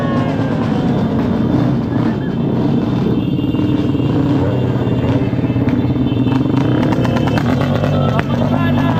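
Loud motorcycles and other traffic roar along a street during New Year celebrations, a dense continuous rumble of engines with clattering and occasional voices mixed in.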